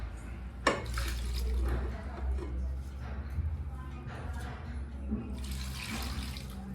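Running water splashes continuously as rice, black kavuni rice, is washed in a pot or basin, with a few soft knocks and sloshes throughout.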